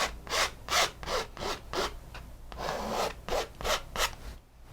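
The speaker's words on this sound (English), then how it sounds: "And then you can scrape off the excess once you've pushed it into those cracks." Dark paint being pushed into a canvas and scraped off the excess, a series of rhythmic rubbing, scraping strokes, about ten close passes in steady succession with no talking.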